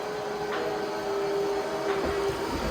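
A MOOSOO MT-501 robot vacuum runs in a living room, giving a steady, moderately loud whirring hum with a sustained tone and faint brushing and bumping noises throughout, with no talking.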